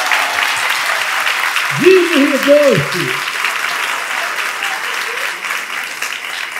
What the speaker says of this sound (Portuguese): Palmas para o Vinícius!